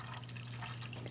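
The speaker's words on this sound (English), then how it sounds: "I'm going to fill up both of these containers with this water. Straight up tap water" Plain tap water running steadily into containers, a soft continuous trickle close to the microphone with a low steady hum underneath.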